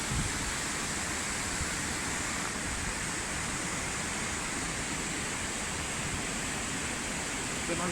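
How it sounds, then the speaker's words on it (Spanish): Cabrachanca waterfall in Huancaya, a constant loud broadband rush of falling water with no breaks, heard close and alone. "La cascada de Cabrachanca."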